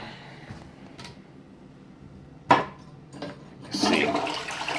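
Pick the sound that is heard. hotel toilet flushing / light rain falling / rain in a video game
hotel toilet flushing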